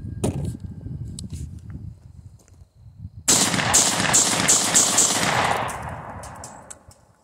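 A Panzer M4 shotgun emptied in a rapid-fire mag dump at a range, a fast string of loud close blasts packed together after a stretch of quieter handling noise, then fading echo.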